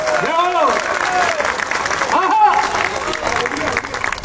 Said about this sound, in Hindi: विश्वास हो गया हो तो एक बार अब मेरे सम्मान में ढंग से ताली बजाओ